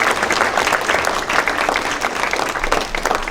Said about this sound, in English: Give these students another round of applause